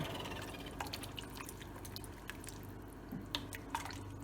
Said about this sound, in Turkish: Suyunu ekliyorum. Suyu da üstüne geçecek şekilde.